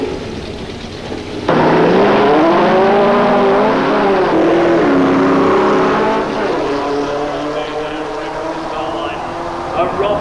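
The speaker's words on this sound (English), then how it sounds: "it's Bruce Copas with the VW Beetle, a form and function car" A VW Beetle drag racing in a 1993 shootout at Avon Park, its engine droning loud and steady with rising pitch sweeps, under a commentator's voice.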